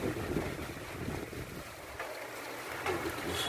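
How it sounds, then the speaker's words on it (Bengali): Wind and rain from Cyclone Remal in Dhaka, a steady broad rushing hiss with gusty low rumble, continuous throughout at moderate distance with no clear talk. "এই যে বৃষ্টি। বাতাস আসতেছে। বাতাস আসতেছে, সাথে বৃষ্টি।"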